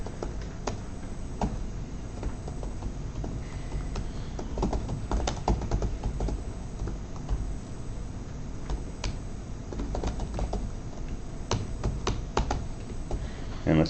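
Soft, irregular clicks and taps of typing on a computer keyboard while code is written, faint and close, with occasional quiet speech.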